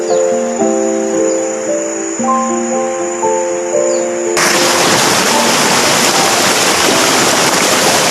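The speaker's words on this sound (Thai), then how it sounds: "นี่ครับแม่น้ำลำธาร" A forest stream flows in deep woods, its broad rushing wash starting abruptly partway through and continuing loud and steady after an opening stretch of tonal, music-like notes.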